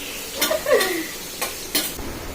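Onions sautéing in a pan until brown: a soft background sizzle under a few sharp spatula scrapes and a light metallic clink, close by.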